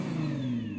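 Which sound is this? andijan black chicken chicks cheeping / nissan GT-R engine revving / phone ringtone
nissan GT-R engine revving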